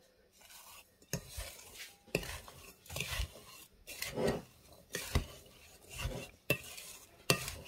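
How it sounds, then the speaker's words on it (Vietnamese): Soybeans are mixed with salt in a bowl for fermented soybean paste, giving repeated scraping, stirring strokes about once per second, close and moderately loud with no talking. "Trộn vậy cho nó thấm vô nha các bạn."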